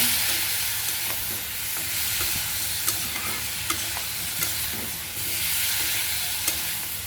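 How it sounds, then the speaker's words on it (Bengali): Vegetables, cauliflower, potato and eggplant, sautéed with water in a pan, giving a steady broad sizzle and hiss with occasional soft stirring clicks, close and continuous throughout. "জল দিয়ে ভালো করে কষায় নেব"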